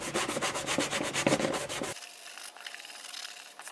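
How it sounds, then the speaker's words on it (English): Quick rhythmic rubbing strokes from a sanding sponge scuffing a plastic surface, close by, then fading into softer, sparser scraping. "I'm just going to use a sanding sponge"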